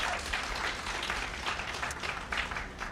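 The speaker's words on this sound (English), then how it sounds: "Let's give them a round of applause." A Delta Sigma Theta audience claps through a 90th anniversary illumination ceremony, many hands in a continuous, even patter heard from within the crowd at moderate loudness, with no voice on top.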